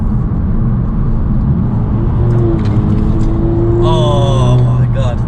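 A car accelerates hard through the gears during an impromptu road race, the engine drone steady and loud inside the cabin with rising and falling tones as it pulls, and a voice briefly speaks over it.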